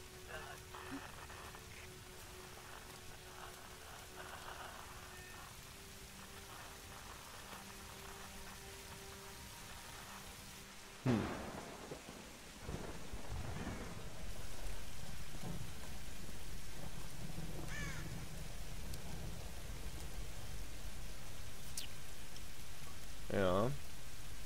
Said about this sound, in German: Es regnet alles, alles müsste klatschnass sein